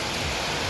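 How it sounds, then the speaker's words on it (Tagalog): Rain striking the outer wall of a house during a heavy downpour, a steady dense hiss of drops with no breaks, fairly loud and close, with no voices. "Hala, ano tong ulan na to?"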